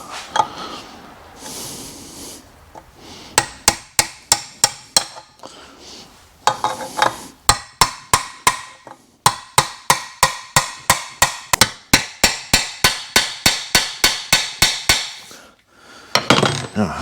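Metal striking tool driving parts onto an outboard motor lower unit: a long series of sharp, evenly spaced hammer-like impacts, loud and close, in quick bursts with brief pauses.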